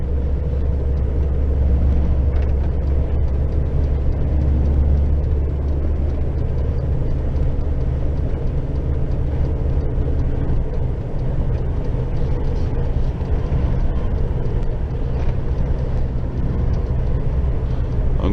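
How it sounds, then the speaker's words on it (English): A loaded lorry carting straw to the power station drives along with a steady, continuous low engine rumble and road drone, close and unbroken throughout, with no voices heard. "I've got a bit more relaxed with this lorry now I've done the first load."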